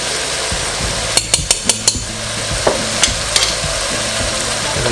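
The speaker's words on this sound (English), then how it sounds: "And give it a good stir." Spices of red chili powder and turmeric stirred in a hot frying pan for beef lasagna, a steady close sizzle broken by a quick run of sharp metallic scrapes and clinks from the stirring utensil.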